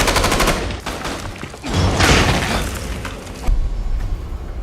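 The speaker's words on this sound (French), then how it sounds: "un autre tireur embusqué commence à tirer sur eux" Gunfire from snipers in an action film scene: loud, rapid volleys of sharp shots with booming, crashing impacts that come in bursts, with a heavy low thud near the end.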